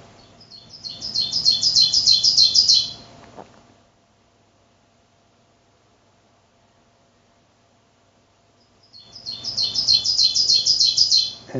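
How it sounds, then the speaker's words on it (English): Ovenbird song from Berkshire woodland: two loud bursts of rapid, high, ringing repeated phrases, one at the start and one at the end, separated by several seconds of near silence. "every 20 feet you ran across another ovenbird just talking"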